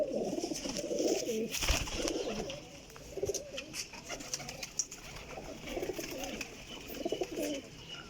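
Soft, repeated cooing from Sialkoti and Goldna cross pigeons, several overlapping coos at close range with a few sharp knocks and rustles between them.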